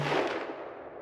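A Ruger American Ranch Gen 2 rifle in 350 Legend with a muzzle brake fires once with 170-grain Hornady ammunition at an outdoor range, a loud close blast that decays into a rolling echo.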